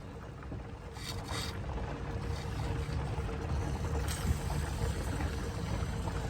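Coolant bubbling inside the radiator of an overheating Range Rover with the engine shut off: a continuous low, churning gurgle and rumble, close to the microphone, with some wind buffeting and no voices.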